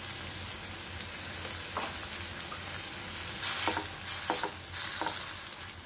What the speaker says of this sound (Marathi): मटकी परतताना